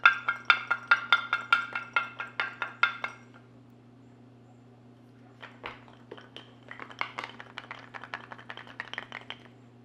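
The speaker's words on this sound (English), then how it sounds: "take garlic and you toss it into a jar with a lid, and go ahead and screw that lid on, and then shake the garlic really violently" Garlic cloves shaken hard inside a lidded jar give rapid rhythmic rattling clinks, a loud regular burst at first, then a pause and a looser, fainter flurry of knocks over a low steady hum.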